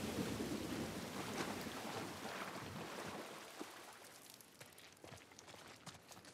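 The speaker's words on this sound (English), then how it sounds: "at least we're out of the rain" Heavy rain pours steadily in The Last of Us while deep thunder rumbles and then fades, the downpour easing slightly toward the end with scattered drops.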